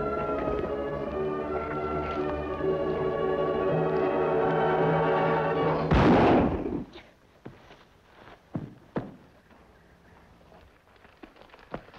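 A single loud gunshot in an episode of the western TV series The Lone Ranger abruptly cuts off a swelling musical score, leaving a hush broken by scattered soft thuds and movement.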